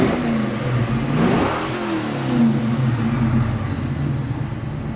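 A warmed-up 1979 Pontiac Trans Am V8 idles with a deep rumble on a freezing day and revs up once, swelling and falling back, heard close without voices.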